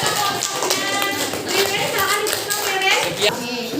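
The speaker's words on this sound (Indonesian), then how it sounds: "Beri tepuk tangan dulu ya." Classroom applause from a group of students, a burst of brisk clapping lasting several seconds, close and fairly loud, with children's voices talking over it.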